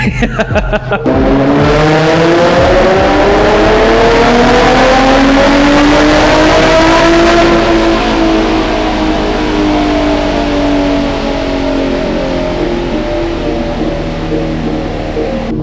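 A naturally aspirated Nissan G35 drift build with a VQ35HR V6 runs a dyno pull, its loud engine note climbing steadily through the revs, then holding high and easing off, with a harsh opening blip and no talk.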